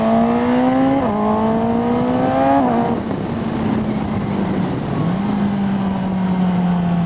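A Suzuki GSX-S750Z motorcycle with a Translogic quickshifter pulling through the gears, the engine note climbing, cutting briefly on each quick upshift, then rising again, loud and close amid wind rush.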